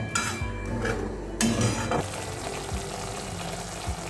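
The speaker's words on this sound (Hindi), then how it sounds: "और लो फ्लेम पे मसाले को अच्छे से भूनेंगे।" Spiced masala paste roasts on a low flame as a spoon stirs it, making close, rough scraping and rubbing strokes over a low sizzle, with a brief louder scrape midway.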